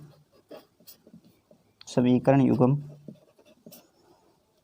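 Someone writes on a board during a Class 10 maths lesson, leaving faint scratchy strokes and taps. A voice speaks briefly and loudly in the middle.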